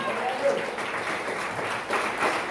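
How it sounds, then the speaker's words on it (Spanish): Church congregation applauding during a service, a continuous mid-level wash of clapping heard briefly with speech mixed in. "Denle un aplauso al Señor esta mañana."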